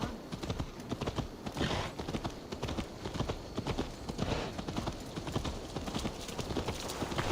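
Horse hooves clip-clop at a brisk, even trot in Assassin's Creed Valhalla, a continuous run of close, distinct hoofbeats with no talking.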